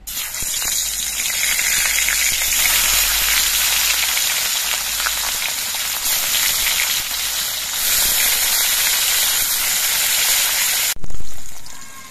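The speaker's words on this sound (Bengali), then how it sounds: "কড়াইতে দিয়ে দিচ্ছি সর্ষের তেল। সর্ষের তেলটা ভালো মতো গরম করে নিয়েছি। এবার মাছগুলো দিয়ে দিচ্ছি।" Shol fish fry in hot mustard oil in a kadai, producing a loud, continuous hissing sizzle that holds for several seconds before a sudden bump and a fading rumble.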